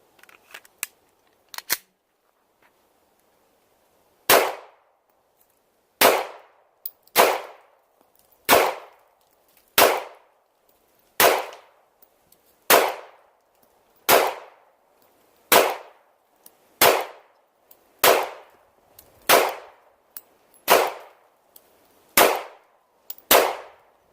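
A Glock 19 Gen 5 pistol firing Tula ammunition at an outdoor range, a few faint clicks and then about fourteen sharp, loud shots at a steady, unhurried pace, each with a short ringing decay.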